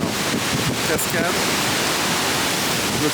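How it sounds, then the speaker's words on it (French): Waterfall at Pont d'Espagne in the Pyrenees, a steady broadband roar of falling water that fills the whole stretch, with brief faint voices in the first second or so. "Cascade,"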